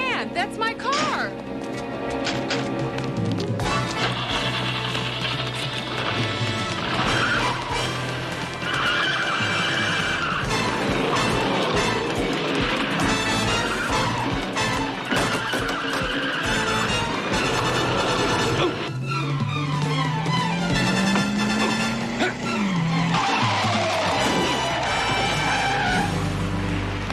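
A car speeds off with skidding, squealing tires, loud and continuous under a busy mix of music, voices and horse-like noises, with a rising tire whine near the end.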